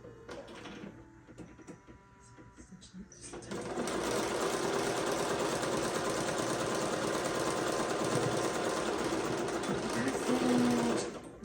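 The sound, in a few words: sewing machine stitching up the side of an apron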